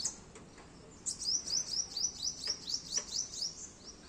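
A sparrow in a rooftop jasmine garden chirps in a quick series of short, high notes, fairly faint and steady in rhythm, with light background hiss.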